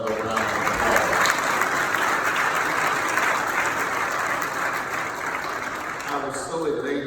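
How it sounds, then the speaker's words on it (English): Sustained applause from an audience at an MLK commemorative service, a dense, steady wash of clapping lasting several seconds, slightly thinning toward the end. "Give yourselves another round of applause."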